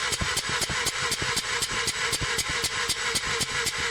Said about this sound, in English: please crank it.